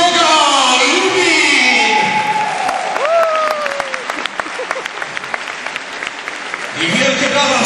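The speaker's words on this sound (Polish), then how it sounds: "I wielkie brawa, przywitajcie go bardzo gorąco!" A crowd claps and cheers at a strongman competition, loud sustained applause throughout while an announcer talks over it through a reverberant PA.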